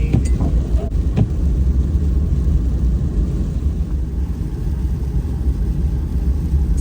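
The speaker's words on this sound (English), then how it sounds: "So my neighbor got a new snow blower and he's helping me with my sidewalk responsibilities" A neighbor's new snow blower clears a snowy sidewalk during a storm, its engine a loud, continuous rumbling drone that holds steady and close throughout.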